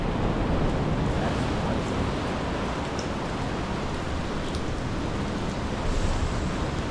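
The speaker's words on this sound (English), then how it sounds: "There's the sea caves at Playa Ventanas." Ocean surf rolls steadily at the sea caves of Playa Ventanas on the Costa Rican coast, a dense, even roar of wave wash with no talking.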